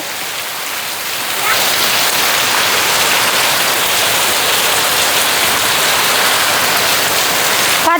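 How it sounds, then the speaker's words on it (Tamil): Heavy rain pours down outdoors among trees and plants, a dense, constant roar that swells slightly after the first second and stays loud and steady with no voices. "பார்த்தீங்களா நல்ல மழை அடிச்சு ஊற்றும்"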